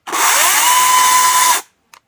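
An APRO cordless chainsaw whines loudly at a steady high pitch for about a second and a half, then cuts off abruptly as the brake stops it, followed by a faint click.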